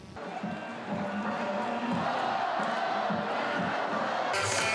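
Crowd at the Masan baseball stadium cheering in unison, a dense roar with rhythmic chanting pulses, heard somewhat distant and steady throughout.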